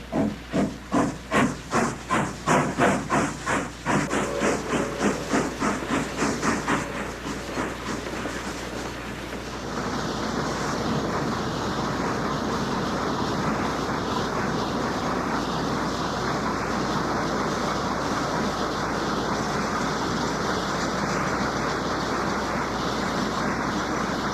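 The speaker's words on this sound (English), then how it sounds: "Authentic steam sounds from the engine shown" A logging railroad steam locomotive chuffs in rapid rhythmic beats that slow and fade into a long, steady roaring hiss of escaping steam.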